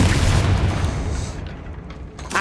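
A Confringo blasting spell explodes in Hogwarts Legacy, a loud close boom that rumbles and fades over a couple of seconds, with a fresh burst of impact at the very end.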